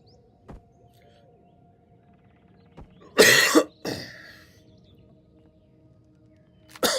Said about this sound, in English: so I apologize for the cough in there